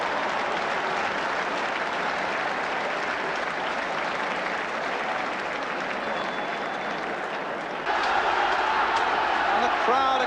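A football crowd roars and applauds steadily after a goal by West Ham's Robbie James in a match against Liverpool, a dense, continuous wall of clapping and cheering that swells louder near the end.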